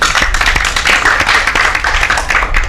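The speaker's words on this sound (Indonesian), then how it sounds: "Tepuk tangan untuk Gary." An audience claps loudly and steadily for a motorcycle racer on a talk show, a close, dense burst of hands at an even level.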